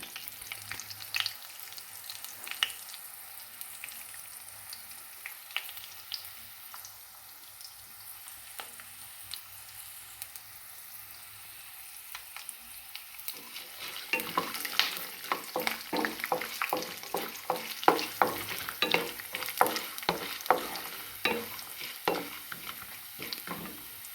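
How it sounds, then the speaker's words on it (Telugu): Peanuts, urad dal and chana dal with coriander seeds roast in a pan for a tomato-coriander chutney, a steady dry sizzle at first, then a busier crackle with frequent sharp pops and scraping stirs from the midpoint on, close and without talk. "వేరుశనగుళ్ళు బాగా వేగాలి"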